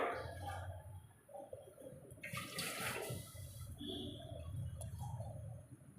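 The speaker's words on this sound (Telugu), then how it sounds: "దానికి ఒక 5 కప్స్ వాటర్ వేస్తున్నాను." Five cups of water poured into a cooking pot for pongal, a steady splashing gush that swells in the middle, then settles into a softer trickle, heard close by.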